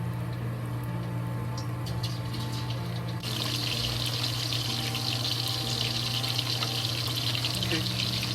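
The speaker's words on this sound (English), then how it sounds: "Put it into the oil to fry it." Pork slices are deep frying in hot oil. A steady bubbling hiss swells sharply partway through and then holds loud and continuous over a low background hum.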